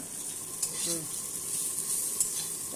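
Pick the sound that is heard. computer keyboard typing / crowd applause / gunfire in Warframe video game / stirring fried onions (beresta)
stirring fried onions (beresta)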